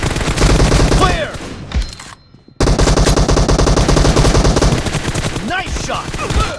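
Rapid automatic gunfire from a team-based shooter video game, loud and continuous bursts with a brief pause partway through, then resuming at close range.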